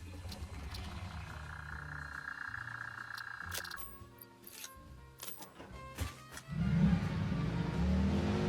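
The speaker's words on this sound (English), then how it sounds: "I don't drive the vehicles in this game nearly often enough." Video game vehicle engine hum and whirring, shifting through gears with clicks and rattles, then surging louder toward the end as the vehicle accelerates.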